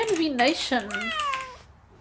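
A human voice imitates a cat's meow as a phone notification sound, giving a short, rising-and-falling two-part mew that is close and clear.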